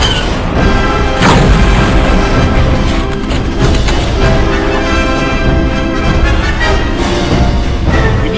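Rocket launcher blast hitting a spider walker in the Star Wars Battlefront Elite Squadron Tatooine battle: a loud crashing explosion near the start, followed by dense booming, rumbling combat noise that continues throughout without talk.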